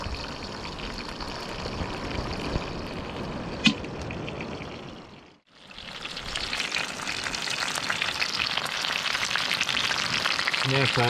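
Snapper fries in a pan on a small gas ring at a winter beach camp, a close, steady sizzle and crackle that briefly drops out midway before resuming stronger, with faint talk in places.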